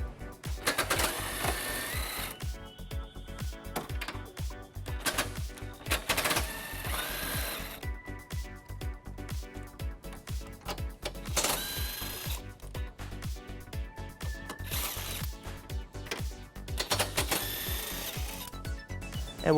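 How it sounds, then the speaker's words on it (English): Bumper beam bolts come off a 2018 BMW X5 with an 18mm socket on a rapid-firing impact or ratchet tool, a busy mechanical rattle running continuously with louder spurts, close and without talk. "we're going to remove those using an 18mm socket"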